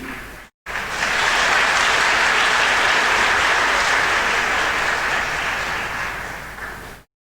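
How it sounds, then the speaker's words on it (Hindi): Congregation applauding during a church service: a full, steady wash of clapping that starts after a brief gap, holds loud and dense for several seconds, then tapers off near the end. "ये ताली अगर आपने प्रभु के लिए बजाई तो मैं कहूंगा बिल्कुल छोटी थी।"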